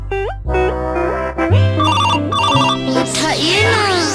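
An electronic phone ringtone plays a repeating melodic tune loud and close, with voices talking over it.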